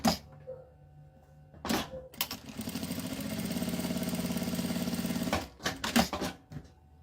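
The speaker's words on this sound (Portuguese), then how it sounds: "Vou passar uma costurinha de meio pé de máquina aqui na parte da dobra." A sewing machine runs a short half-foot seam along a folded edge of fabric for a wallet, a steady, even mechanical whir lasting about three seconds, with fabric handling and small clicks before and after.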